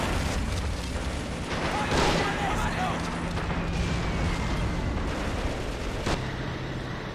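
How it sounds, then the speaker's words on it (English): Bombs dropped by Soviet aircraft crash down in the game Men of War: Assault Squad during a Stalingrad battle, heavy rumbling blasts buried in a dense, continuous wash of battle noise, with a low hum running beneath. "The 978th Convenience Division dropping bombs conveniently on a position"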